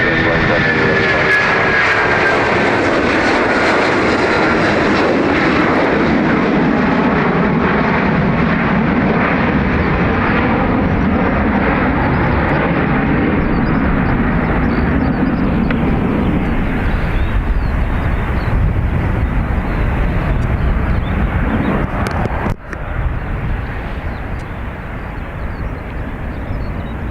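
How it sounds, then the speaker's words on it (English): An ATR turboprop airliner departing Dublin Airport roars loudly and continuously, its engine drone filling the air and slowly shifting as it climbs away, with a voice talking over it. "EI3256, it's the ATR off to Edinburgh."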